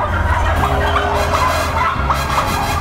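A large flock of turkeys at a Chiayi turkey farm, a mix of US-imported breeds, gobbles continuously in a dense, overlapping chorus close by, with a steady low rumble underneath.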